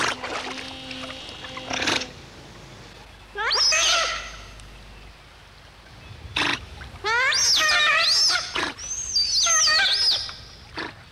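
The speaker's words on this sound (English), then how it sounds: "Giant otters are extremely vocal. In fact, they are the world's noisiest otter" Giant otters on a river call loudly and close by, with a series of penetrating, wavering screams and whistling wails, broken by short bursts of noise and no talking.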